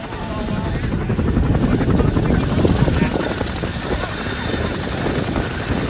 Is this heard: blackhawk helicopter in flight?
yes